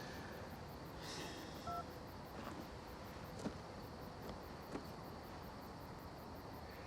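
Keypad tones beep as a phone number is dialed on a mobile phone, several short evenly spaced presses at close range over a quiet hum, with no one talking.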